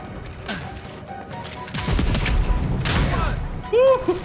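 Gunfire and headshots in the video game Avowed, a few sharp bursts and impacts amid combat noise, ending in a short whooshing effect, with no talk.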